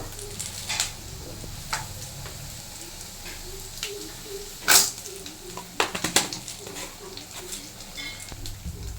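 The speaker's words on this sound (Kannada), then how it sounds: "1 ಟೇಬಲ್ ಸ್ಪೂನಷ್ಟು ಉದ್ದಿನಬೇಳೆ ಮತ್ತು 1/4 ಟೀ ಸ್ಪೂನಷ್ಟು ಕಡಲೆಬೇಳೆ, ಒಂದು 3 ಹಾಕಿ ಸ್ವಲ್ಪ ಬ್ರೌನ್ ಕಲರ್ ಬರೋವರೆಗೂ ಫ್ರೈ ಮಾಡ್ಕೋಬೇಕು" Urad dal and chana dal frying in a pan until brown, giving a low, steady sizzle broken by stirring scrapes and clinks, with a louder cluster of clatter partway through.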